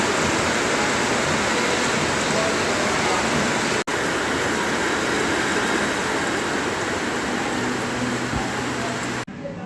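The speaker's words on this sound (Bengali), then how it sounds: "বৃষ্টি নেমেও গেছে, মানে এখন ঝিরঝিরি পড়ছে" Light drizzling rain falls outdoors as a steady, even hiss of fine drops, constant and moderately loud, broken only by a brief dropout near the middle and cutting off at the end.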